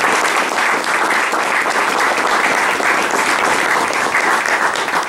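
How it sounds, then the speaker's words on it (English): Loud, sustained applause from a concert audience for a band after a piece at a spring concert, a thick wash of many hands clapping steadily with no gaps. "please give them another wee round of applause"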